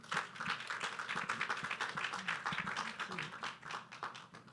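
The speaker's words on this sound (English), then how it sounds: "Please give a round of applause for Dr. Michelle Penn-Marshall." Audience applause welcomes a speaker at a maternal and child health education and outreach event, a steady dense patter of many hands that fills the whole stretch with some voices mixed in.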